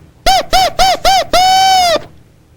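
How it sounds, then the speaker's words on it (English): A loud, nasal double reed honks four short squawks in a quick row, then one longer sustained blast, all alone and up close. "Here is a double reed."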